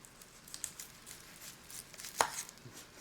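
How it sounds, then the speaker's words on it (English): Knife chopping onions on a board while making beef stew, a steady run of soft, quiet taps with one sharper cut near the end, no talking. "Then I'll work on these onions."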